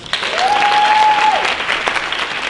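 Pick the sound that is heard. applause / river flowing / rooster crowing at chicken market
applause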